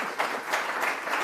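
Audience applause at a forum event, a brief burst of many hands clapping in a dense, steady patter.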